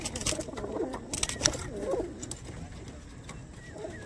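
Soft, low cooing of pigeons close by, a few throaty murmuring calls over a faint background rustle.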